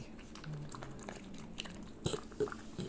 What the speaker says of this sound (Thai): กัดนี่อ้วนกัด